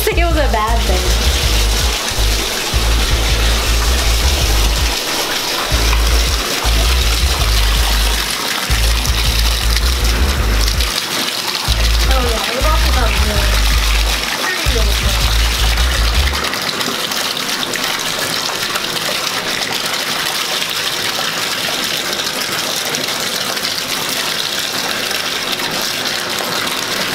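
Water gushes loudly from a bathroom tap or shower while hair is being washed out. It is a steady close rush with intermittent low thumps in the first half, then a smoother flow.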